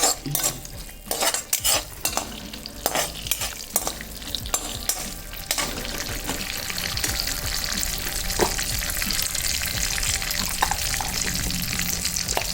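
Sago and lentils are roasted and stirred in a pan for payasam, with a metal spoon scraping in repeated strokes under a growing, steady sizzle.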